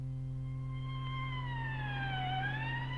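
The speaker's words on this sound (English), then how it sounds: "It has a loud siren that everyone can hear." An ambulance siren wails loudly and steadily, its tone gliding down and back up in a sustained sweep over a constant low hum.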